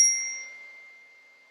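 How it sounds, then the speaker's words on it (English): A single bright chime is struck once, ringing out clearly and slowly fading into silence. "I'm going to play the chime again"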